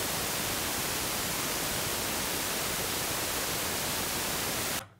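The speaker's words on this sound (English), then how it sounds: "here is our white noise output." Steady, full-band hiss of analog white noise from a DIY Serge-format modular synthesizer, loud and unbroken, cutting off abruptly near the end.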